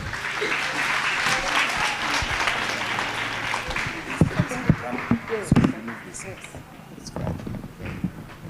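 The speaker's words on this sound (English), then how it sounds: "Please give them a round of applause." An audience applauding for a school drama performance, a dense patter of clapping that thins into scattered claps and thumps, with voices talking over it.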